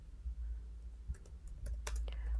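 Typing on a computer keyboard in a quiet room, a short burst of light key clicks in the latter half, close and fairly soft against a low background hum.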